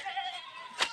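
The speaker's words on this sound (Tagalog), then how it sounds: "ito yung mga kambing guys." A goat on a farm gives a short, faint bleat, heard briefly against quiet background noise.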